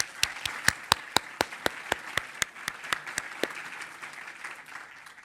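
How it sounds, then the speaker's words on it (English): At a university award ceremony, a room applauds medalists: a soft crowd clapping bed with one close, loud clapper striking a steady rhythm for about three and a half seconds, then fading. "let's give them all a round of applause"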